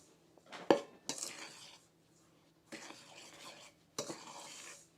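Flour, sugar, baking powder, salt and cinnamon-nutmeg spice being stirred together in a mixing bowl, a sharp clink against the bowl followed by three bursts of scraping, rustling stirring, close and without talk.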